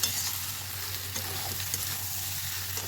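Spice masala stir-fries in oil with a faint, steady sizzle, broken by a few light scraping stirs and no voices.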